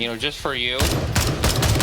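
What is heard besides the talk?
gunfire with AP ammo in the video game Gray Zone Warfare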